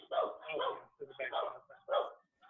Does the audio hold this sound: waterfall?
no